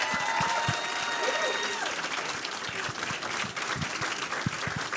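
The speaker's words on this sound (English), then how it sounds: "let's give one more big round of applause for Before You Know It." Audience applause at a film Q&A for the feature Before You Know It, a dense, steady wash of clapping from a sizable crowd holding loud and even throughout, with scattered sharper claps standing out near the front.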